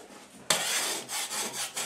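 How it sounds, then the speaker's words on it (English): A harsh, close-up rasping scrape begins abruptly, then continues as several repeated scraping strokes of a flat blade knocking ridges off drywall. "just take a blade and knock off the ridge"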